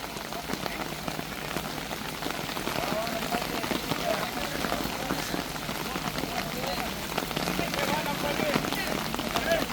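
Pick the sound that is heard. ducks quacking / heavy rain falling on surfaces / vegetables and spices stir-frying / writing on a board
heavy rain falling on surfaces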